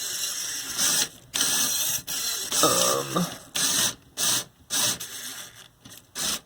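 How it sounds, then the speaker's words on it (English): A Lego Technic motor drives a small mechanism on an Arctic Explorer truck model, producing repeated short whirring, rattling bursts separated by brief pauses. "So when I run the motor forward on my switch, it runs this little mechanism here."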